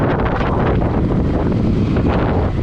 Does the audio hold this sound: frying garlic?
no